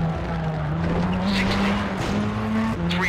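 A race car in the WRC Rally Evolved video game, on a tarmac rally stage in the Tour de Corse, holds a steady engine drone while its tires squeal and skid in short bursts, loud and continuous throughout.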